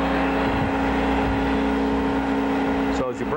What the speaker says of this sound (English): But I have this set up to grind a plug lead right now, so I'll turn it on.